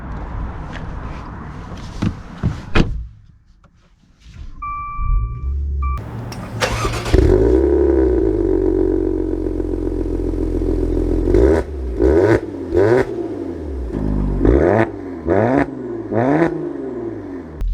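A 2023 Maserati Quattroporte luxury sedan fires up with a sharp starter burst, then settles into a steady idle broken by several quick throttle blips that rise and fall, close and loud, with no talking.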